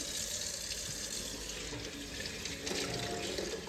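Hot water running steadily from a kitchen tap into a sink while dishes are washed, a continuous close splashing hiss with small clatters.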